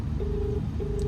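A phone ringback tone heard while a driver in Kochi calls a customer who does not answer: two steady electronic beeps in quick succession, faint and close over a low hum.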